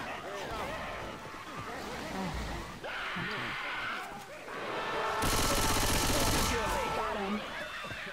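Bursts of gunfire in Left 4 Dead 2 crackle through a busy game scene, with intermittent shots and a heavy sustained burst later on, overlapped by voices and other game sounds.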